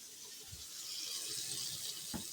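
Water draining from a newly installed dishwasher, a quiet steady hiss of flow with a couple of soft knocks, no voices.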